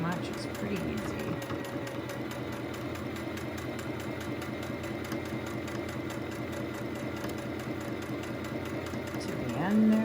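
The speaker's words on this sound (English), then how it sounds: "So then continue to sew down." Sewing machine stitching a fabric face mask, a steady fast mechanical whirr that runs without a break, with a brief swell at the very end.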